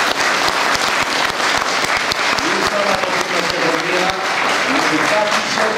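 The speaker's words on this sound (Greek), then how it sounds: "χειροκροτήστε το" Audience applause at a ceremony in Kalymnos, dense continuous clapping from many hands filling the room, loud and steady throughout with voices faintly mixed in.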